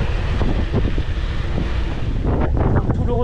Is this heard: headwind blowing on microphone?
yes